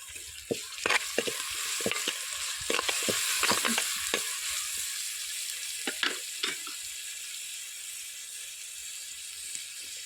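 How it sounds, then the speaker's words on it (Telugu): Onion, green chili and tomatoes frying for a village-style mutton curry, a continuous hiss of sizzling with sharp scraping stirs and clinks in the first half, then a steady quieter frying hiss alone. "టమాటాలు వేసుకున్నాం. టమాటాలు కూడా లైట్గా కొంచెం వేగాలి."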